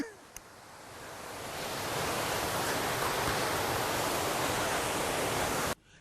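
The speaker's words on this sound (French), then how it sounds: "une cascade naturelle offre une vision de chute d'eau impressionnante" A natural waterfall in a dense, lush virgin forest gives a steady broadband rush of falling water. It swells over the first two seconds, holds at a loud, even roar, then cuts off abruptly near the end.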